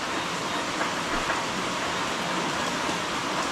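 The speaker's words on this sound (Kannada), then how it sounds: "ತುಂಬ ಅಂದರೆ ತುಂಬ ಮಳೆ ಇದೆ." Heavy monsoon rain roars as a dense, unbroken hiss, loud and steady throughout, with no speech.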